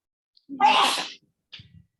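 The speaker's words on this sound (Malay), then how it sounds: "siapa yang bersin dulu?" A single sharp sneeze bursts out close and loud during an online class, followed by a brief quiet sniffle in an otherwise silent room.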